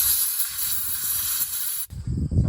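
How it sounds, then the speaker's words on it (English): Compressed air blows dirt and grime out of the brake on a Mk4 Volkswagen Jetta TDI, a loud continuous hiss that cuts off abruptly, followed by lower rumbling handling noise. "Sometimes compressed air can be quite helpful to get the dirt and grime out of where you're trying to get the tool into."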